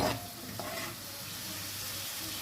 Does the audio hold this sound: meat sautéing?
yes